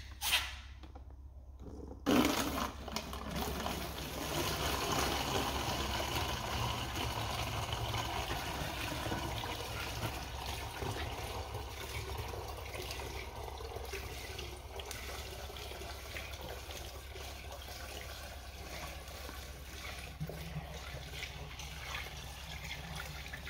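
Water pours into a Nissan 350Z intake manifold, a steady trickling and gurgling fill heard close up that runs on after a brief knock at the start, with no talk.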